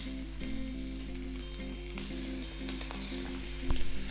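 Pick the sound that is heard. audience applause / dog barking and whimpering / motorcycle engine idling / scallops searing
scallops searing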